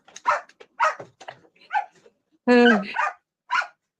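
Jack, a pet dog, barks in short separated bursts close by, one louder, longer yelp near the middle, with a person's brief murmur in between.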